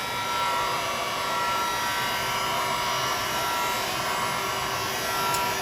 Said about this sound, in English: I'm now going to come in with my heat gun.